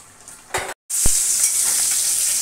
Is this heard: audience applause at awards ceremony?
no